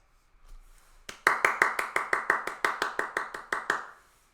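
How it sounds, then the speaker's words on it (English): One person claps hands in a steady run of about fifteen sharp, evenly spaced claps, close and alone after a near-silent start. "I think that everyone at their homes, they're gonna be clapping like me."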